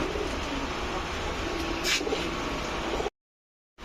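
Golla pigeons at a pigeon farm give low cooing calls over a busy, steady background, and the sound cuts off abruptly into near silence before a brief return.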